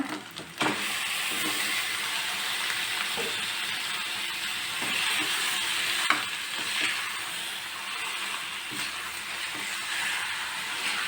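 Marinated chicken fries in a pan for a chicken fry, giving a loud, continuous sizzle with occasional stirring scrapes and a sharp clink near the middle, close up with no voices.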